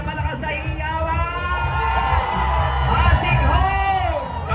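Loud crowd cheering and yelling at a Sinulog-style festival street parade during Araw ng Pasig celebrations, a dense continuous roar of shouts and whoops that swells toward the middle, with voices calling out throughout.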